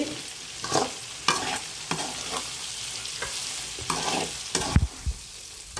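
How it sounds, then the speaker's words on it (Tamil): Gooseberries for pickle sauté in oil in a pan, with a soft continuous sizzle broken by repeated scraping stirs of a spoon at an unhurried rhythm, close and moderately loud, no talking. "நெல்லிக்காவை வதக்குங்க. எண்ணெய் கூட இன்னும் கொஞ்சம் கூட எண்ணெய் ஊற்றணும்"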